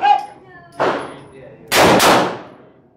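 Two loud, sharp .357 Magnum revolver shots at an outdoor shooting session, each a crack with a ringing tail, the second following about a second after the first, preceded by a brief voice.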